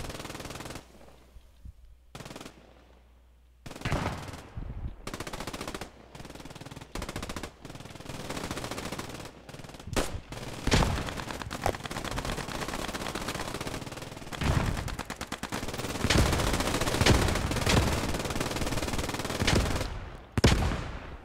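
Gunfire rattles through a video game squad battle with jeeps nearby. Scattered single shots and short bursts give way to sustained, dense automatic fire at close range.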